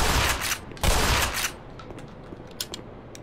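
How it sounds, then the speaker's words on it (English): A grenade blast in the Black Mesa shooter game, a loud broadband burst with a second heavy boom close behind, then fading debris and softer clicks and distant pops. "Let's throw a grenade at it"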